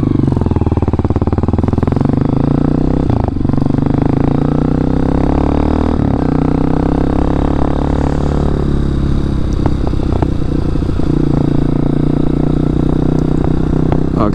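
A 2003 Honda CRF230F dirt bike engine runs steadily and loud throughout while being ridden on wet ground, its low throttled drone shifting slightly in pitch with a few clattering bumps, no talk over it.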